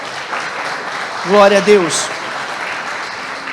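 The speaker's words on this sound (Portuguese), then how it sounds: "Você pode se colocar de pé aplaudindo o Senhor?" A church congregation applauding in a steady, dense wash of clapping throughout, with a voice briefly shouting out over it.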